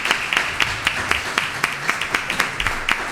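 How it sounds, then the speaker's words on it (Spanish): Audience applause for a documentary director at a screening and talk, sharp irregular claps repeating across the whole span at moderate level, with a faint room murmur underneath. "Así que un aplauso para él"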